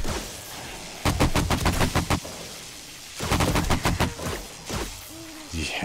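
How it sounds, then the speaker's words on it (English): Automatic gunfire from an AK rifle in the 7 Days to Die video game rattles out in two rapid, loud bursts separated by a short pause, with a few softer shots trailing after. "Wait, why are you shooting?"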